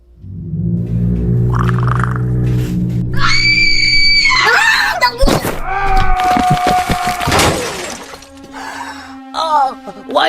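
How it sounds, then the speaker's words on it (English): A boy tumbles down basement stairs in a loud, chaotic sequence of wooden crashes and clatter mixed with high screaming and wailing, with musical tones and voices around the commotion. "Billy fell down the stairs into the basement"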